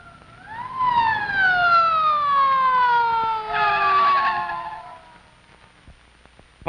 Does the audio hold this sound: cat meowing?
no